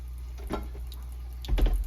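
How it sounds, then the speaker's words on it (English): Water splashes and sprays in short bursts from a tap into a sink, close by, with quieter trickling between the bursts. "Spray that water all around this outside part."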